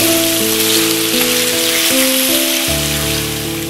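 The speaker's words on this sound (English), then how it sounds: "Add potato. And cook it for 5 to 8 minutes." Potato pieces sizzle in hot oil in a pan with cumin and mustard seeds, a steady, loud, continuous frying hiss with background music playing over it.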